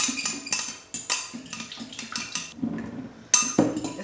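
A spoon stirs and whisks Asian salad dressing ingredients, including crushed red pepper, in a bowl. It makes close, irregular clinks and scrapes against the dish with brief pauses, and no one speaks.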